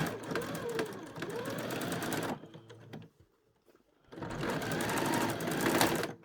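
A sewing machine stitches gathers joining a bodice to a skirt, a loud rapid mechanical whirr that runs steadily, pauses briefly in near silence, then starts up again.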